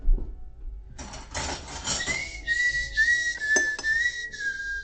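A person whistles loudly and shrilly, a wavering tune played close by in short bends and sustained notes, with some faint handling noise beneath.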